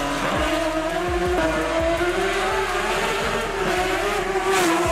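A BMW E46 M3 racing engine roars loudly and steadily near 9000 RPM, a high droning whine over a deep rumble that continues for the whole stretch.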